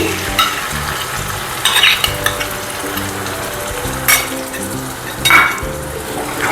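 Yogurt being stirred into a Bengali bata fish curry in a pan, with a steady sizzle and periodic scraping and clinking of a spatula against the pan, with no talk.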